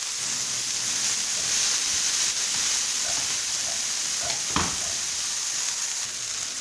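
Beef burger patty frying in a pan at home after being flipped and pressed down, a continuous close sizzle with a few faint pops and one brief clunk of the utensil.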